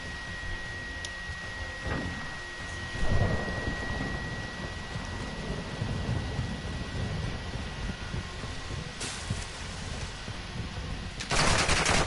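Continuous automatic gunfire in Modern Warfare 2, steady and moderately distant, with heavy thuds and louder bursts rising near the end over a dense battlefield rumble.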